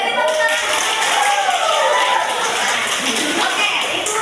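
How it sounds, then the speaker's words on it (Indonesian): Classroom applause for a student's answer, continuous clapping from a group of students with some voices mixed in, fairly loud and close. "beri tepuk tangan"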